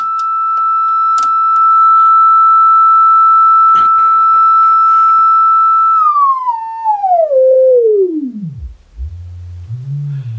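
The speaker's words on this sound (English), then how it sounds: "Sine wave." A sine wave test tone plays through a homemade 5 watt MOSFET audio amplifier and loudspeaker box, holding a loud, pure steady pitch with a few faint clicks, then sweeping smoothly downward to a low buzzing hum.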